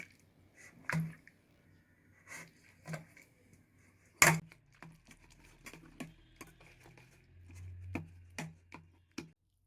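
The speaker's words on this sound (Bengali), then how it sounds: "এবার একটা হাতার সাহায্যে টমেটোগুলোকে ভালো করে গলিয়ে নিচ্ছি।" Boiled tomatoes being mashed and pressed with a ladle, giving soft wet squishes and occasional sharp taps against the pan, spaced irregularly over a quiet background.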